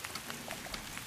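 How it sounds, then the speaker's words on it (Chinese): Rain falling on a hard surface nearby, a faint, even patter with scattered individual drop taps throughout a brief moment, with no voices. "下雨了"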